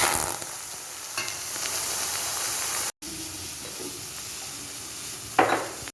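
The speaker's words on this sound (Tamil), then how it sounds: "இப்போ வெறும் கடாயில் போட்டு அதை கொஞ்சம் நேரம் வேக விடணும்" Mutton with only salt and turmeric sizzles steadily in a hot dry pan with no oil, with a brief gap and a short scrape of stirring near the end.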